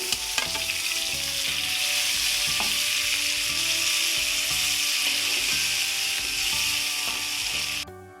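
Bottle gourd pieces fry in oil in a pan for sorakaya vepudu, a steady loud sizzle broken by repeated scraping and knocking of a stirring spoon, with no talk.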